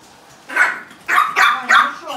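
A small dog makes several short, throaty barking and growling sounds close by, four bursts in about two seconds.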